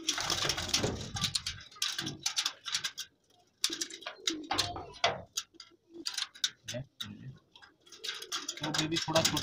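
Soft cooing and chirping from young flying-breed pigeon chicks in a loft, close by, with scattered ticking and rustling noises and brief pauses throughout.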